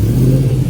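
Car engine with a new exhaust, a deep low rumble revving steadily up close for a brief moment, loud and alone with no voices.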